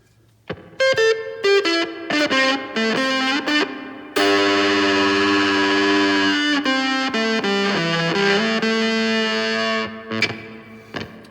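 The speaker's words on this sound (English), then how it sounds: "And finally, Spring Reverb." An electric guitar runs through a spring reverb effects pedal with a dirty gate, playing a bright picked phrase and then a long sustained chord that rings with a splashy, metallic reverb tail before fading.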